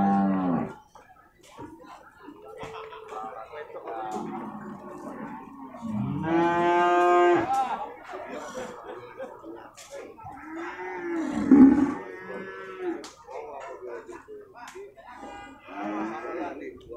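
Cattle lowing repeatedly at Purwakarta livestock market, a busy open-air cattle sale, with several loud, drawn-out moos near and farther off amid crowd murmur.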